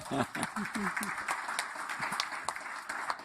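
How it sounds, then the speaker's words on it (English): Applause for a discussion panel at a festival event on conversations about race, a dense patter of clapping from an audience, with a voice talking over the start. "A round of applause for them, please."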